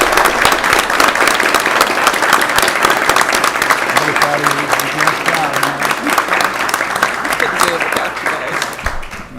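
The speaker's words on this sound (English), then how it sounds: "Yes, you deserve a standing ovation." Standing ovation at a school district board meeting, dense, loud, continuous clapping from the audience filling the room for several seconds, with voices mixed in.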